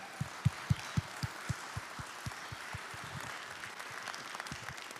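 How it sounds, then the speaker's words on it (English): Conference audience breaks into a round of applause at a bitcoin learning event, dense clapping with a few strong low thumps early on, steady crowd clapping that gradually thins over the following seconds. "Let's give them a really big round of applause."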